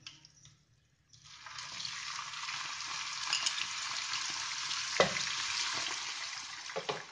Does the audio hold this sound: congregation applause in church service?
no